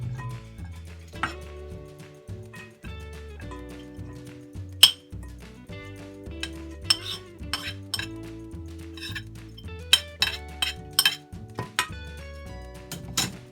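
Utensils clink against a bowl while vegetable filling is mixed into batter for Indonesian bala-bala fritters, a run of light, scattered metallic and glassy taps over a low, steady hum in a home kitchen.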